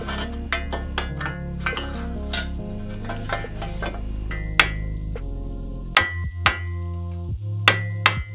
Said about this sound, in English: I'm going to pound it back through